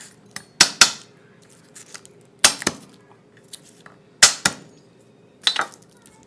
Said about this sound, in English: I'm just going to give them a little crush with my knife